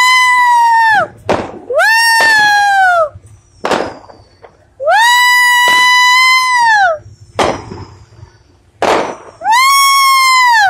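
Loud whistling fireworks shriek one after another on the Fourth of July, with sharp bangs and pops in between.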